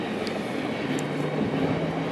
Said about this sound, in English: First Tropicana juice train.